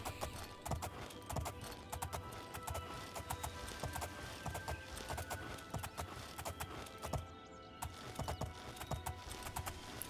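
Horse hooves in The Elder Scrolls IV: Oblivion video game beat out a quick, continuous galloping clatter for about ten seconds, steady and fairly close, with no voices over it.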